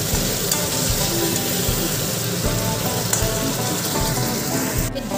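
Food sizzles as it heats in a pan, a steady close crackling hiss with scattered pops throughout.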